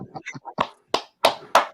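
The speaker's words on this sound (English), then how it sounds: "You're smacking your Marlboros there" A pack of Marlboro cigarettes is smacked against a hand four times in a steady rhythm, with sharp, close slaps following a brief burst of muffled voice.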